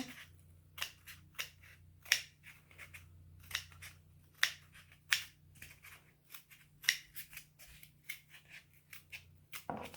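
Scissors snip through a stiff cardboard egg carton in a steady series of sharp, close crunching cuts, with a low hum underneath.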